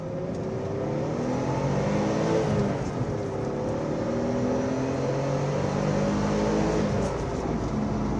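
A 1990 Nissan 300ZX accelerates under steady load, its engine drone climbing and shifting pitch continuously from inside the car, loud and without a break, with no voices.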